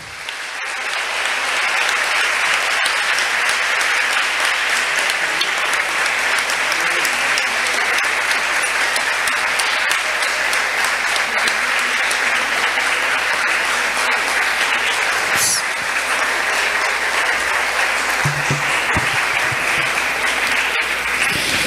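Sustained applause from a large audience at a university poetry festival, a dense steady wash of clapping that continues for the whole stretch with no talk over it.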